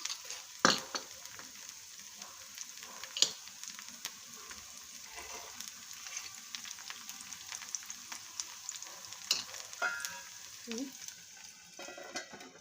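Oats and green moong appe fry in a little oil with a soft, steady sizzle. Occasional light clinks and scrapes from stirring cut through, and the whole scene stays quiet and close.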